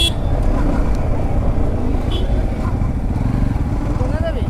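A motorcycle rides along a hill road, its engine droning steadily and loudly up close with constant wind and road rumble and no break in the noise.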